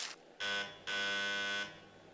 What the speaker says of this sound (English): The buzzer goes off again.